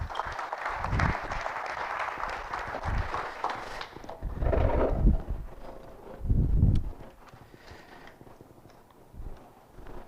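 An audience at a mobile app marketing meetup claps for about four seconds, a dense patter of applause that fades out and is followed by scattered bumps and shuffling noises.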